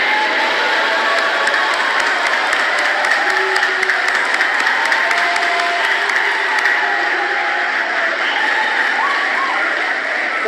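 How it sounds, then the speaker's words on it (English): Graduation audience applauding their tutors, a loud, sustained wash of clapping from a big crowd with some cheering mixed in, steady from start to finish. "we'll clap at the top of our voice"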